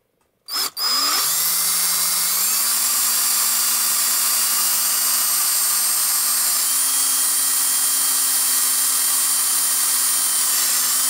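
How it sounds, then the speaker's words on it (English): A power drill spins up after a brief click and runs continuously with a steady high whine, close and loud, its pitch stepping up slightly, while drilling holes for a soldering helping-hands stand. "Keep the drill very, very straight."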